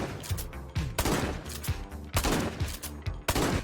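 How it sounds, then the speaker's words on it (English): Rapid gunfire from an ML lever-action .44 rifle in a shooter video game, a close, loud burst of sharp shots with echoing tails, several in quick succession, no talking. "Let's try this semi-auto 44 caliber rifle."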